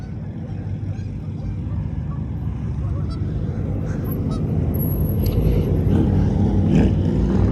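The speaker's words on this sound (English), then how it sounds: "Look at the geese." Geese honk repeatedly outdoors, a run of loud, nasal calls that grows busier toward the end, heard over a low traffic rumble.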